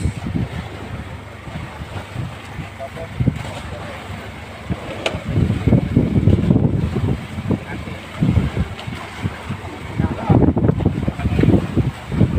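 Fishing boat out at sea near a fish aggregating raft, buffeted by big waves and gusting wind; steady rumbling roar of water and wind across the mic with surges and thumps, loud throughout, with some voices faintly underneath.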